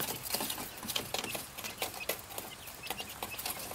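Coturnix quail chicks in a brooder peck at their food and cheep, making a busy stream of quick, bright chirps and soft tapping, close and continuous.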